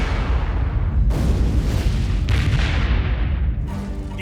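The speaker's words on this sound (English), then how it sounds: "A tranquil Sunday morning is interrupted by a series of massive explosions." Series of massive explosions on a quiet Sunday morning near London, setting off a huge fire: loud, continuous heavy booming and roaring blasts with sharp bursts hitting in succession, dense and sustained throughout.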